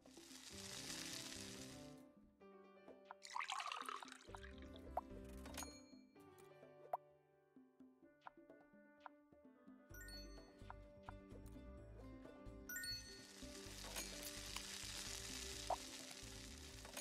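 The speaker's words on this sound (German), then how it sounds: "Jetzt muss ich erstmal Burger braten." Burgers sizzle on a grill in the cooking game Claire's Cruisin' Cafe, a steady frying hiss with soft plops and clicks over looping background music, surging in bursts at the start and near the end.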